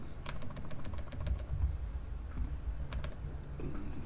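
Several keyboard key presses click sharply at irregular intervals over a low, steady hum, with no talking.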